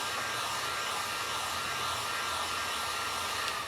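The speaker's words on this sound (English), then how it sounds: "Well, this isn't a blow dryer. I guess it's a heat gun." A heat gun blows hot air during a porch-sign craft project, giving a continuous, even whooshing hiss at close range with no break from start to finish.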